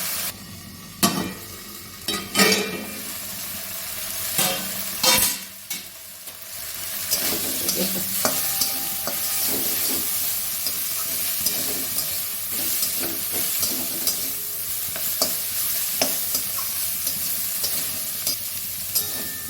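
Brahmi greens stems frying with potato in a pan, a steady close sizzle with stirring scrapes and knocks early on, then continuous hissing frying under occasional light clinks.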